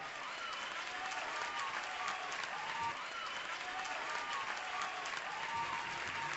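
An audience at a television awards ceremony applauds an actress winning best drama actress, a sustained, even roar of clapping from a large crowd, heard through a thin, band-limited recording.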